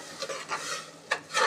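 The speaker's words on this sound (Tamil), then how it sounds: "இப்போ இதை நல்லா கிண்டிடணும்." A spoon stirs prawn biryani masala with ginger, garlic, cinnamon, cardamom and cloves in a pot, giving a few quiet, separate scraping strokes with no talk.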